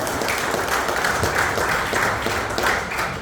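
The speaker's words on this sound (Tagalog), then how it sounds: "Isang malakas na palakpak sa Panginoon." A church congregation applauds steadily throughout, a dense wash of many hands clapping at once with no pauses.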